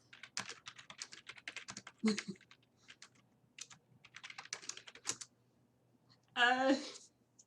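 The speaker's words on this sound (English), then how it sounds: "I was typing" Fingers type on a computer keyboard in quick bursts of close, crisp key clicks separated by short pauses. A brief voice cuts in near the end.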